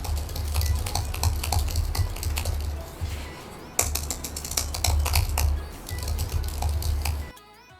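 Typing on an Apple Magic Keyboard, a light, low-profile board with some metal in it, giving steady runs of soft, close clicks with brief pauses, alone and with no talk.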